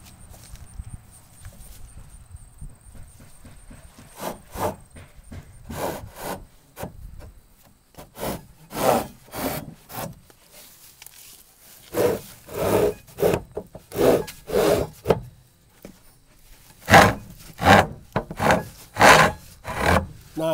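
Repeated bursts of grinding, rasping contact on wood while holes are bored for root cellar bars, close up, coming in uneven clusters with short pauses between them.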